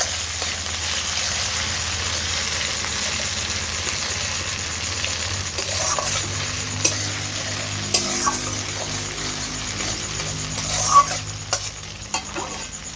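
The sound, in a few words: mixing ginger paste and chillies in a pan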